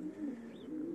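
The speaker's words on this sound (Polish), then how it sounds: "te gołębie, te rude. Mam ich całą rodzinę" Red pigeons give one low, soft coo that wavers briefly, close by in a quiet space with no talking.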